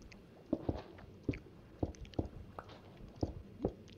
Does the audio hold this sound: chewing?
yes